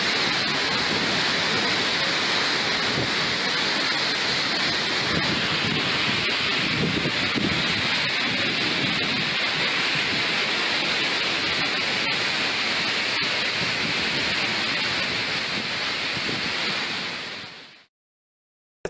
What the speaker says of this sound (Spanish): Mucho viento hizo anoche, mucha lluvia.